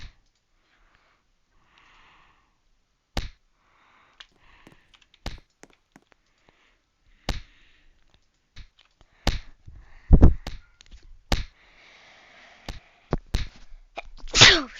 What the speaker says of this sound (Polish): Kichnąłem.